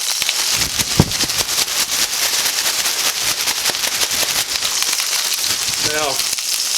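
Flour is shaken inside a plastic oven bag, making a dense, continuous crinkling rustle at close range, with a brief voice near the end.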